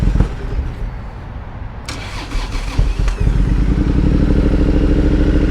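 A 2011 Triumph Thunderbird 1700 parallel-twin motorcycle engine cranks and catches, sputtering briefly before settling into a steady, loud idle close by.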